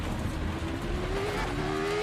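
A Formula Pro race car engine in rFactor 2 at Zandvoort, with a steady, continuous engine drone and a slowly rising pitched tone that suggests idling or light revving. The sound is moderately loud throughout and has no speech.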